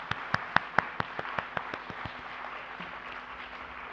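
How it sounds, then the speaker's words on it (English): Applause for the graduating class at an IBDP high school graduation ceremony: a few sharp claps in a quick run, growing fainter and sparser until they fade out. "we have to all of us give a big round of applause to the class of 2022."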